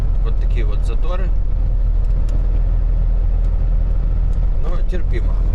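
A car drives through slow morning traffic in Kobe, Japan, its engine and road noise a steady, loud interior rumble beneath someone talking.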